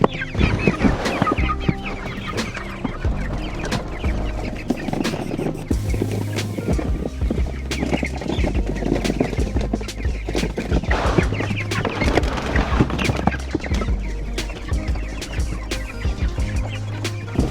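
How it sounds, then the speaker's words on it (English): Cornish cross chickens on a pasture farm, about forty of them being carried out in tubs, cluck and squawk in a dense, busy chorus that stays steady throughout, close by and with no one talking. "Let's take our first 40 chickens out."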